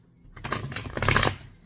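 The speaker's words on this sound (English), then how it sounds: "I'd like to do 3 more shuffles to set the intention for the sign of Leo" Tarot cards shuffled by hand during a reading, a close, dry riffling burst of papery clicks lasting about a second, with no talk over it.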